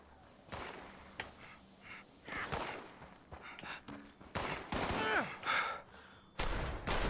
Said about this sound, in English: there's somebody there. Shooting those feral ghouls.